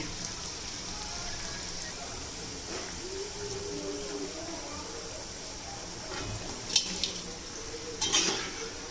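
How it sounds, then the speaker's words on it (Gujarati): Pea bhajiya fritters fry in hot oil on a gas stove, giving a soft continuous sizzle with occasional clinks of a utensil stirring near the end. "પછી ફાસ્ટ ગેસે તેને તળવાના છે જેથી તે અંદરથી કાચા ના રહે"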